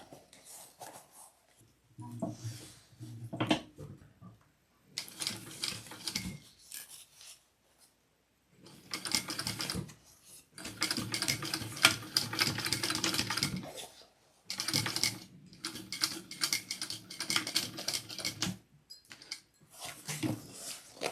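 A sewing machine stitches a zipper onto a small backpack in several long, steady runs, with pauses between them and a rasping, close mechanical buzz.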